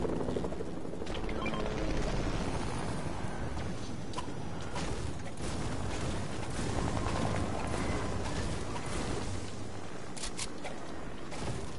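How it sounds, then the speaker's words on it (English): A helicopter in the video game Fortnite thrums with a continuous, loud rotor beat and engine roar that holds steady throughout, with no voices over it. "Who let that weapon get in control of the chopper?"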